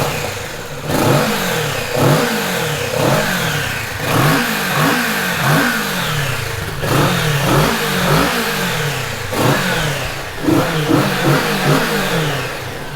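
A Kawasaki Z650 RS motorcycle with a short exhaust revving repeatedly, loud and close, each blip rising sharply then falling back to idle in a quick rhythmic series, with no talking.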